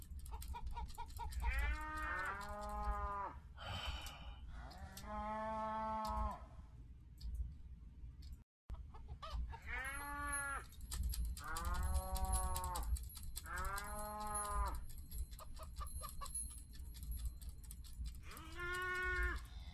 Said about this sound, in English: Yes, I know you're here, cows.